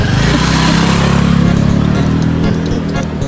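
A motorcycle ridden on a road, a loud steady engine drone with rushing wind noise, close and continuous throughout.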